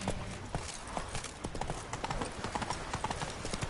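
Roach the horse's hooves clop in a quick galloping rhythm in The Witcher 3 in Toussaint, steady and fairly close, with faint voices underneath.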